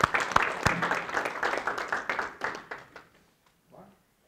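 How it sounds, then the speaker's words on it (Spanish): Audience applauding a course participant in a Gospel of Mark class: steady, moderately loud clapping that thins out and fades after about three seconds, with a brief trailing sound at the end. "vamos a darles también un aplauso"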